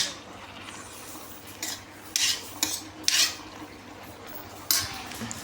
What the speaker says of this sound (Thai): อันนี้ใบกะเพราใส่ลงไปแล้วคนเลย